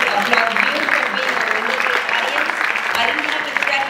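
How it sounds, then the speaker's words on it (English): An audience at a dance recital breaks into sustained applause, a dense clatter of many hands clapping close by, with voices mixed in. "And I would like to applaud you."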